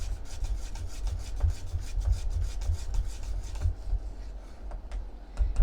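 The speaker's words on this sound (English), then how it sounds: "Keep stirring." A whisk or spoon steadily scrapes and rubs through coconut cream pie filling in a pot, a close, continuous rasping stir with soft rhythmic strokes and no talking.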